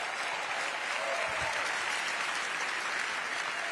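A large audience claps at the America Business Forum in Miami, a dense, even wash of applause that holds steady from start to finish with no break.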